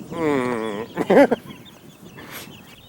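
A mother hen clucks near her chicks in a farmyard, a drawn-out tonal cluck followed by a couple of short sharp calls and a faint chirp, close and fairly clear over quiet background.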